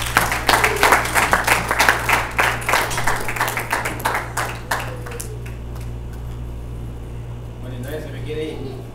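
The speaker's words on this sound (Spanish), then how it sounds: "Démosle un aplauso al Señor, hermano." A church congregation claps at a worship service, rapid uneven clapping that is loud and close at first, then fades into a hum of room noise and voices murmuring.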